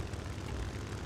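In the War Thunder flight game, a damaged, dying propeller aircraft engine drones in a rough, wavering hum, steady and moderately loud across a brief moment with no talk.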